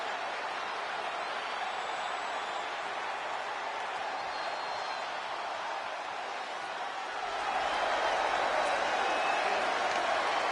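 Broad, steady roar of a wrestling arena crowd cheering during WWE Raw, a dense wash of voices that swells louder in the last few seconds as the noise builds.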